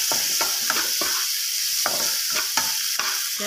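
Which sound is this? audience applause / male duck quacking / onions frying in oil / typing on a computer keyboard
onions frying in oil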